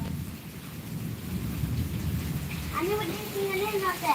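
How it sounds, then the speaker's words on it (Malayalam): Steady rain patters and hisses with a low rumble underneath, while a person starts talking partway through. "വീണ്ടും മഴ വരുന്നുണ്ട്"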